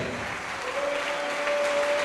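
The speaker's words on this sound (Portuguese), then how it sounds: "Vamos aplaudir a palavra do Senhor, vamos aplaudir." Congregation applauding in a church service, a steady wash of clapping from a large group with a faint sustained tone running under it.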